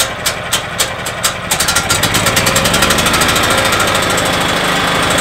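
A 220-volt generator engine for a coffee truck runs after a choke adjustment, starting with a few separate putters and settling into a steady, loud, close, even chugging idle with no talk over it.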